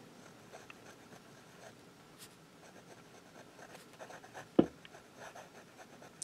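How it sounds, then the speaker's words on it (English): A Sailor Pro Gear fountain pen with a 21K gold nib writing reverse side up on paper, giving faint, soft scratching strokes with one sharper tap near the end, close and quiet with no talking. "21K gold nib. Reverse writing."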